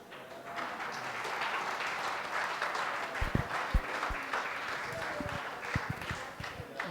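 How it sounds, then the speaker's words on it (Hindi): An audience at a lecture session breaks into steady, sustained clapping that fills the room for several seconds, with a few sharp, louder claps near the end. "गाली पे ताली।"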